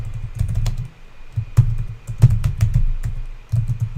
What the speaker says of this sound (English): Let me start typing